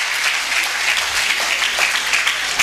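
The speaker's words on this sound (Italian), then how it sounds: "Un applauso." A crowd at a local town festival applauds, a dense, loud, continuous wash of many hands clapping at once, steady from start to finish.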